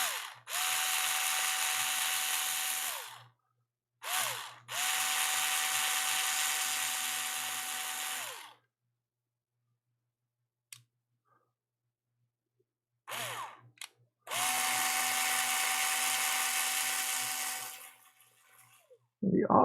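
A small rotary drill fitted with a little cutter bit whines in three sustained bursts, with quiet gaps between them, while working on a Nintendo Switch.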